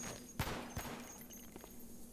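Gunfire in the video game Cataclysm DDA: a sharp shot stands out, a second fainter one follows, and softer scattered pops trail off under a steady background hum.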